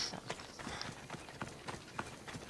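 Horse hooves gallop in Assassin's Creed Odyssey, a steady run of soft clip-clop beats in fairly quiet game audio, with no talking over it.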